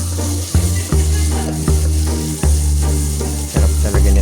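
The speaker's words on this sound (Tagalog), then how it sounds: "Bango talaga pag ginigisa yung kamatis." Tomatoes sautéing in a hot pan, giving a loud, steady sizzle broken by scraping stirs of the spatula about once a second, close up with no talking.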